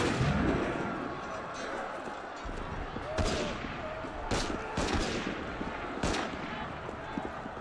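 Cannon fire in Assassin's Creed Unity: several sharp booming blasts, irregularly spaced amid a noisy battle din, with shouting voices mixed throughout.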